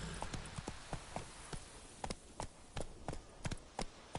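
Roach, Geralt's horse in The Witcher 3, clip-clops along at a brisk pace, with hoofbeats landing in an uneven rhythm over soft background ambience.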